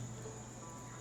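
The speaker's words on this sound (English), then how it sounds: "find yourself awakening to the familiar sound of cicadas and animals" An ambient soundscape of cicadas and animals carries a constant insect drone with a steady high-pitched chirring tone over a low background hum, heard alone and unchanging throughout.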